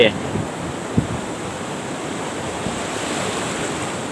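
Sea surf washing onto the beach at Hua Hin during monsoon high tide, a steady broadband wash of waves with wind noise on the microphone, fairly close and continuous with no talk.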